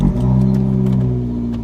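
A Fiat 500 Abarth engine revs up as the car pulls away on the road, a close, steady mid-pitched growl that rises briefly before easing off slightly.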